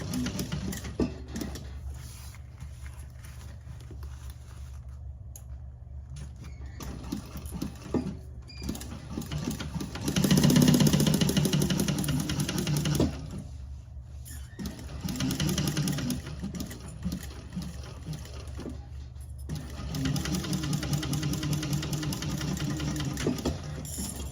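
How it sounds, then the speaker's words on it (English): A sewing machine runs in bursts, stitching straight across the bottom of a drop-in bag lining, with a rapid mechanical chatter that pauses and restarts several times, loudest in the middle run. "A drop-in lining on this, so we're sewing all the way across the bottom."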